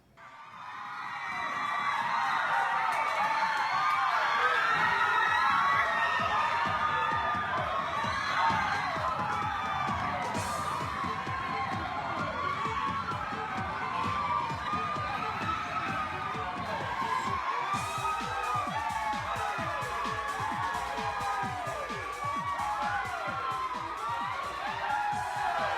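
A crowd of children cheering and shouting on learning they won a contest, sustained excited screaming and whooping from many young voices, loud and continuous, with a brief sharp burst partway through.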